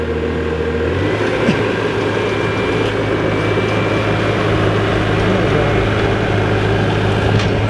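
A Bobcat skid steer engine runs steadily with a loud, constant low rumble, throttled up near the start and holding an even drone throughout.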